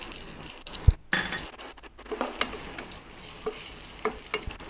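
Garlic dropped into hot oil in a pan for a fish curry, with a sudden sizzle and crackle, then scattered spoon taps and stirring clinks against the pan, close and uneven.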